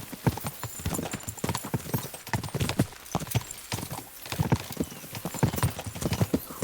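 Horse hooves clip-clopping in a steady rapid rhythm from the medieval-era video game Kingdom Come Deliverance 2, close and fairly loud, with an occasional faint whinny and no speech.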